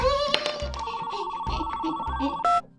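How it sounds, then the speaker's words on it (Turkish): A toy telephone rings with a bright electronic ringtone of repeating tones and melodic beeps, played alongside a Barbie toy set, close and fairly loud. "Ha telefon çalıyor."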